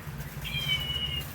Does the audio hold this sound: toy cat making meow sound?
yes